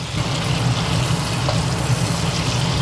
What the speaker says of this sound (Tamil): வெண்ணெய் உருகிற சத்தம் பார்த்தீங்களா?